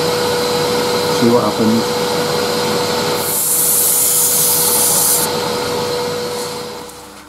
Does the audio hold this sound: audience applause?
no